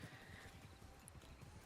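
Horse hooves clip-clop steadily in Red Dead Redemption 2 at a rare horse spawn point, with a brief whinny, the steps dense and continuous throughout and no talk over them.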